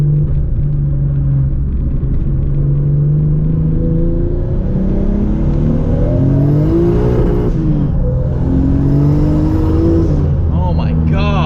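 A turbocharged Toyota Supra with a new turbo, rated around 1,000 horsepower, with the AC running, accelerating on the road: a loud, continuous engine drone that climbs in pitch through repeated revs and gear changes, heard from inside the car.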